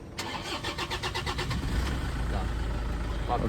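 A Toyota Innova engine cranks briefly, then catches and settles into a steady low rumble, heard close up with some background noise.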